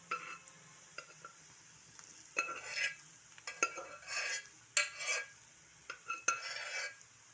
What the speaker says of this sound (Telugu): ఇప్పుడు ఈ బీట్రూట్ ముక్కలు, మనం ఉడకబెట్టుకున్న బీట్రూట్ ముక్కలు ఉన్నాయి కదా, అవి వేసేసుకుందాం